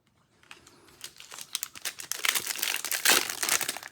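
A Magic: The Gathering booster pack wrapper being torn open and crinkled close by, starting faint and growing into dense crackling foil rustles and crunches, loudest near the end, with no talk.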